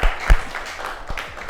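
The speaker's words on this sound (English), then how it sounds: "please give her a hand clap" A small studio audience at a talk event gives a speaker a hand as she walks away, a brief scattering of claps with a few distinct sharp hits standing out over thin background noise.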